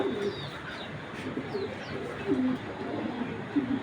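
Several foreign pigeons coo in a loft, soft low repeated coos with occasional chirps from smaller birds, close and fairly quiet over a faint background hum.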